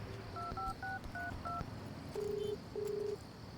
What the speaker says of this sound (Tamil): அப்பாக்கு ஃபோன் பண்ணி பார்க்குறேன்